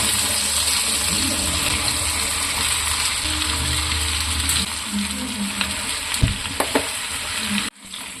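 Chicken frying in oil for a home-style chicken fry, a loud, steady sizzle filling the pan throughout, with a few stirring knocks near the end before it cuts off abruptly.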